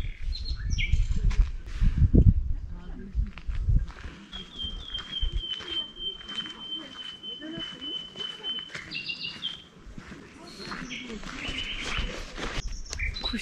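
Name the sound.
birds singing in a village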